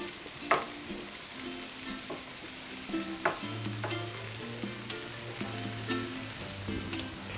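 Potatoes tumble into pots of simmering beer stew, with stirring scrapes, soft clunks and thuds over a steady sizzle, and a low hum swelling partway through.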